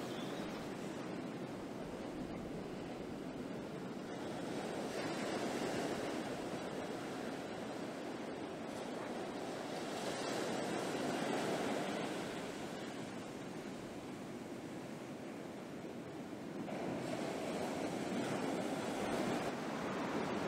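Ocean surf breaking steadily on the Morbihan coast along the megalith trail near Erdeven, a broad continuous roar that swells in slow surges, with wind noise over the microphone and no voices.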